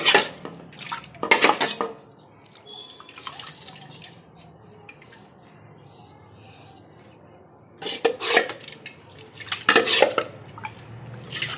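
Brass and copper pots scrubbed with salt and lemon are rinsed under water: short bursts of splashing and clattering metal at the start and again near the end, with a quiet stretch of faint trickling between.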